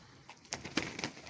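Pigeons give a few soft, brief coos at close range, fairly faint, with light rustling around them.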